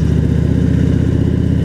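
A Harley-Davidson Road Glide engine runs hot in stop-and-go traffic with a swapped air cleaner, giving a steady, close, loud low rumble and clattering idle throb with no talk.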